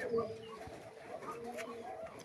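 Giribaz pigeon squabs, green dobaz birds of an old bloodline, coo softly and repeatedly in a close, busy loft, the low rolling calls blending with faint rustling and background noise.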